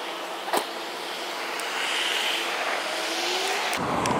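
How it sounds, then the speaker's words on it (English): A Loudoun County Sheriff's car drives past on a road. It starts as a faint approaching whoosh and swells into a louder tire-and-engine rush near the end, with a sharp click early on and no talking. "Loudoun County Sheriff just drove past there."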